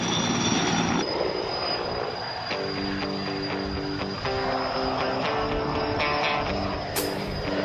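An air crane helicopter hovers close by during a delivery, its rotors and turbine making a loud, continuous roar with a steady whine and rhythmic beating.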